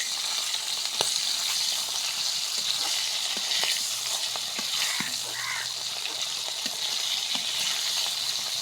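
Fish sizzles in a hot pan with a dense, even hiss up close, broken by scattered crackling pops and a couple of soft clinks, with no talking.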